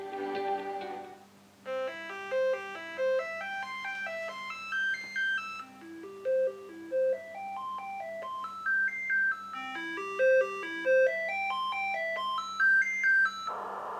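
A replacement SID sound chip in a Commodore 64 plays a bright synthesized tune of rising and falling arpeggiated beeps with a filtered tone, in repeating phrases over a constant low hum.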